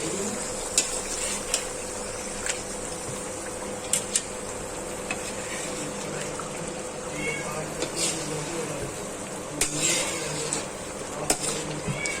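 Fish curry being stirred in a kadai: a spoon scrapes and clinks against the metal pan under a steady sizzle, with occasional sharper knocks.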